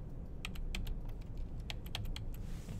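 Keys clacked on a computer keyboard in a short run of about a dozen crisp, close strokes, quick and uneven, over a low steady room hum with no voices.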